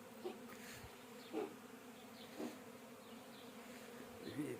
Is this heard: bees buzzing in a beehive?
yes